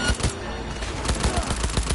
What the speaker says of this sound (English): Heard shots.